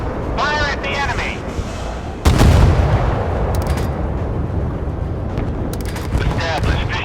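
Warship guns firing in the naval game Force of Warships, one sharp heavy boom followed by a rumbling roar, with a game voice speaking before and after.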